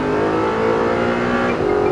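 An Audi R8 engine runs at full throttle on the Speed Vegas track, a loud, steady, close-up roar with a strong tonal whine that holds and rises slightly over two seconds.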